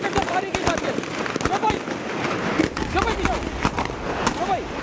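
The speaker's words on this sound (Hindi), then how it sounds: "आप देख सकते हैं दोबारा फायरिंग शुरू हो गई है और ये चारों तरफ से फायरिंग की जा रही है।" Gunfire and rocket fire crackle during a shootout in Lyari, Karachi, heard as dense repeated sharp bursts and pops, some distant and some closer, continuing throughout beneath a voice talking over the scene.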